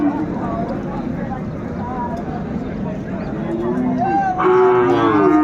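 A Sahiwal bull at a busy cattle market in Ambari, Dinajpur lets out a long, close moo near the end, over constant crowd chatter and livestock bustle.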